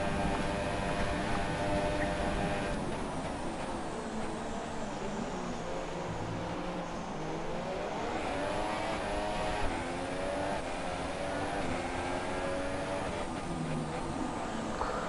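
Racing game cars, a Ferrari chasing a Red Bull on the China circuit, give a steady loud engine whine with shifting pitch and layered harmonics throughout, no pauses or breaks.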